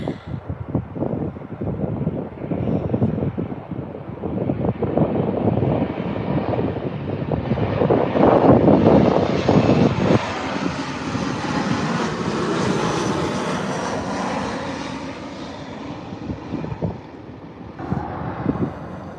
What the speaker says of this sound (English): Yes, Chuck, that was a C-130, thank you.